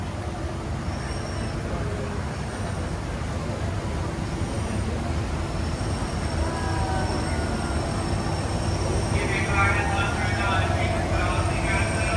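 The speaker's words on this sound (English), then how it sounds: "here comes the monorail" A Disneyland monorail train rolls past at Disney California Adventure with a steady, continuous rumble and whir, while crowd chatter carries on in the background.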